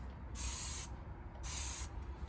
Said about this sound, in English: So I'm just going to spray this down.